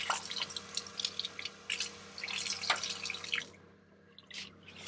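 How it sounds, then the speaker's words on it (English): Water splashes and drips irregularly while a fly culture bottle is rinsed at a lab sink, a series of soft, close sloshes and trickles ending in a brief quiet pause. "Give it a couple more rinses."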